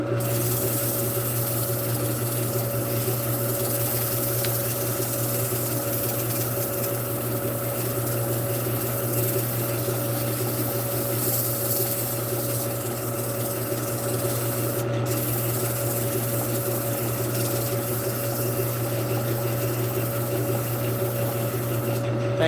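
An oscillating sander with a pad rubs steadily against wood turning on a lathe, a continuous close gritty hiss over a low motor hum that holds unbroken throughout.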